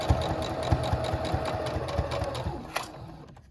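A sewing machine stitching doll slippers runs close up with a rapid, even mechanical clatter, then slows and stops near the end.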